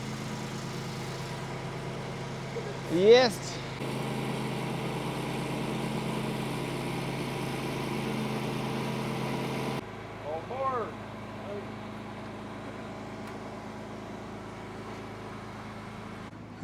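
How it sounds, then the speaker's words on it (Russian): A steady engine idles throughout at moderate level, with brief voices and a short burst of speech early on over the continuous hum. "мотор начал работать"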